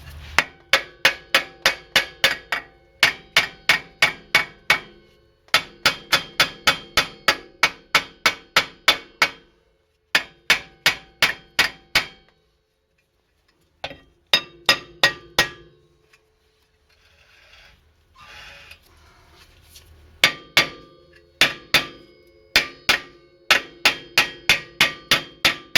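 Repeated metal hammer blows on a Mercedes-Benz W202 C280 rear brake disc, struck in rapid bursts of sharp ringing hits with short pauses between, loud and close, with a quieter gap of lighter knocks midway.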